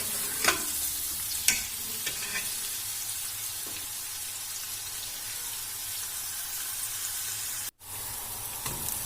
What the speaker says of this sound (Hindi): फिर इन प्याज़ों को अच्छी तरह भून लें जब तक ये गोल्डन ब्राउन नहीं हो जाए।